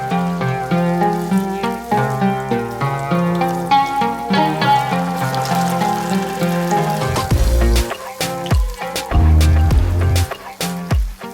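Unnakkai, a Thalassery snack, fry in boiling coconut oil with a steady sizzle under background music, and denser bubbling crackles grow louder toward the end.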